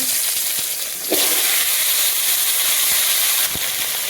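Red amaranth greens and stalks hit hot oil with tempering spices and sizzle loudly and steadily, with sharper hissing surges at about one second and again near three and a half seconds.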